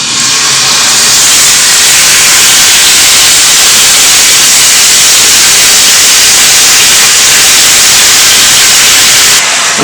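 Chicken sizzles in oil in a hot frying pan with a loud, dense, steady hiss that runs unbroken almost to the end.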